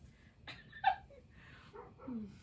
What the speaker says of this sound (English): It sounds like the neighbor's dogs have moved down the street a little bit to bark somewhere else.